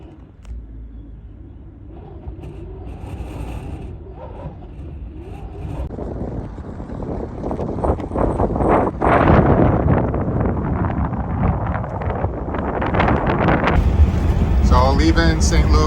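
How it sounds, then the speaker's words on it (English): Strong wind buffeting a microphone outdoors on a blustery early-winter day, a loud, continuous rumbling roar that swells and gusts throughout with no speech. "But listen to the wind. The wind is like pushing me."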